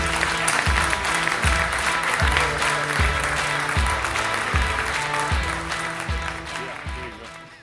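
Sustained audience applause and cheering at a Sparks conference event as a headline speaker comes to the stage, loud and dense throughout with a steady rhythmic thump underneath, tapering off slightly toward the end.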